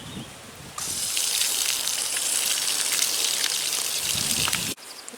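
Water gushes and trickles steadily into garden soil around a transplanted hybrid tea rose, a close, hissing pour that starts abruptly, runs for several seconds, then stops.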